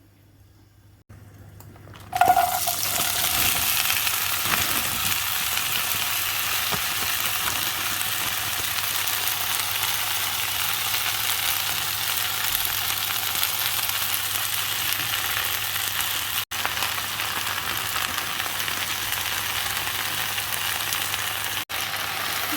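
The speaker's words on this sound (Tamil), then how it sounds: "இப்போ வந்து வெண்டைக்காயை போட்டுட்டு சில்லி பவுடர் உப்பு மட்டும் போட்டு சட்டை பண்ணி அப்படியே டீப் ஃப்ரை பண்ண போகிறேன்" Okra seasoned with chilli powder and salt dropped into hot oil for deep frying, setting off a loud, dense, continuous sizzle that begins abruptly and holds steady to the end, close by, with no voices.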